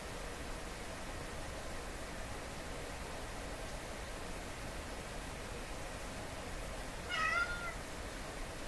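A pet cat gives a single short meow near the end, heard over steady broadband rain-like noise indoors on a wet, rainy day.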